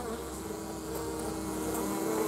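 Honey bees buzz around a hive with open comb cells in warm weather, a faint, steady insect hum continuing throughout with no talk.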